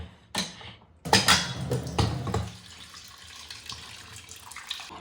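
Water from a tap splashes into a vessel for soaking lentils, a burst of gushing flow followed by a steadier running stream with light clatter of the container.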